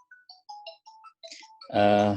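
A phone ringtone plays a short sequence of clear electronic beeps in a quiet room, then ends in a sudden burst of louder noise.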